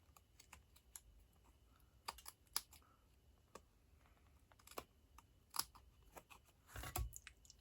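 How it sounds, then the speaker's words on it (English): Scissors snip along the edges of a handmade snowflake card, giving a series of sharp, close clicks at irregular intervals against a quiet room, with a busier cluster of cuts near the end. "I'm going to grab my snips."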